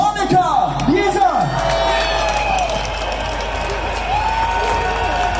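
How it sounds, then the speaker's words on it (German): A crowd at an outdoor protest rally in Leipzig applauds and cheers, with whoops and shouting voices mixed into the continuous ovation. "bitte einen donnernden Applaus"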